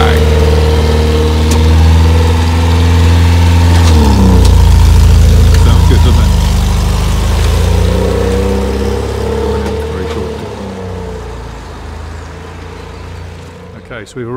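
A classic Triumph Stag car idling with a loose number plate rattling, heard as a steady, loud engine rumble that swells briefly mid-clip and then settles, with talk over it.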